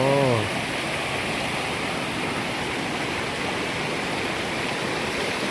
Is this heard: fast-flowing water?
yes